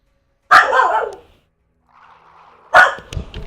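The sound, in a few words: mini dachshund barking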